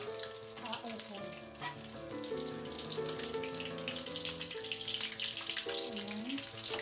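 Okoy fritters sizzle steadily in hot oil in a pan, a continuous close frying hiss running beneath background music.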